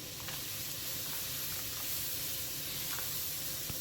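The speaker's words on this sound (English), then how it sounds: "I'm going to add my noodles to the boiling water" Hand-cut lo mein noodles dropped into boiling water in a wok give a steady, close hiss and bubbling sizzle throughout, with faint clicks and no talking.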